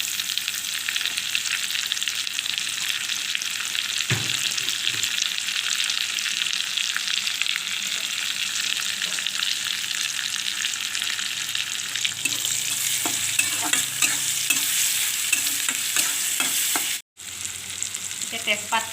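Meat and bay leaves fry in a pan, giving a loud, continuous sizzle close up, and in the later part a utensil stirs the food with repeated scraping strokes.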